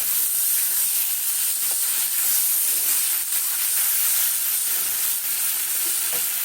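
Poppy seed curry with slit green chillies bubbles and sizzles loudly in a pan on the stove, a steady close hiss of frying with faint stirring scrapes and no voices.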